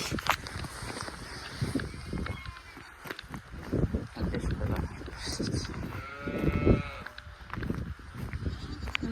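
Sheep bleating in a rural village, several calls rising out of a busy background of footsteps, movement and people talking, at moderate distance.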